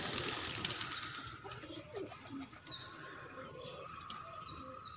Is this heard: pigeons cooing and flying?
yes